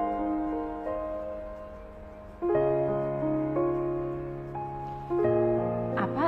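Piano notes and chords played at a steady moderate pace, with sustained ringing tones, a brighter cluster of notes near the end, no voices.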